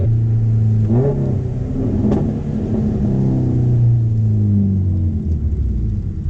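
A modified Subaru WRX STI engine revs hard and rumbles, its pitch climbing and falling through loud, throaty bursts with no talking.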